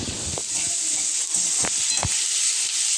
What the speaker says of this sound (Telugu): ఒక 3 ఆనియన్స్ పెద్ద సైజు తరుక్కొని బాగా వేగాలి.